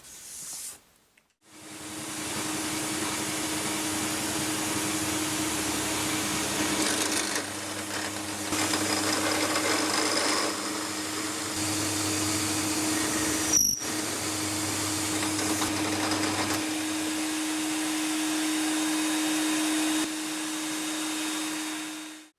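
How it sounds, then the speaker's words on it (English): A steady, loud motor whine runs almost continuously for about twenty seconds, with a brief break near the middle, as a power drill bores into the wood of a carved-top guitar body. "drill them out"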